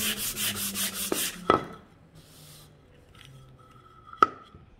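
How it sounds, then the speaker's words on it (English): Sandpaper on the inside bottom of a wooden pencil box from a craft kit: a quick run of rhythmic rubbing strokes, then a pause broken by a couple of sharp wooden knocks. "I want to sand the inside of my box."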